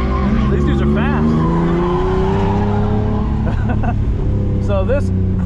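A drift car with squealing, shredding tires on a race track, loud engine drone sustained throughout with rising pitch sweeps, close and continuous, with speech over it.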